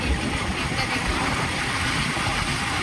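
A motorbike engine runs steadily during a ride toward Sector 5, with a continuous low rumble and a broad wind-like roar blending together at a constant level and no talking.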